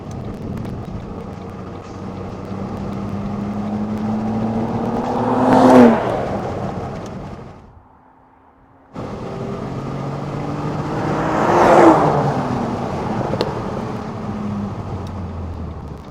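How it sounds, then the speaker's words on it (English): A Ford ST220 with a 3.0 V6 drives past twice, each pass swelling to a loud peak and fading, with a short quiet gap between; no one speaks. "Shall I drop you off and drive past you?"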